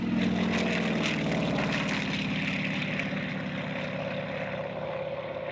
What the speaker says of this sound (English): The other was to see old Warbirds housed in the Flight Museum's hangar take off.